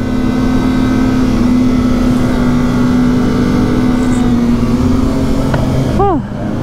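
A Kawasaki ZX25R motorcycle engine drones loudly and steadily while riding on a Sunday morning group ride, with a brief rising rev near the end and heavy wind rush throughout.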